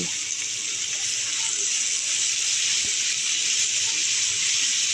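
Grated potatoes hitting hot oil in a pan, producing a loud, steady, broad hiss of frying that holds evenly throughout with no talking.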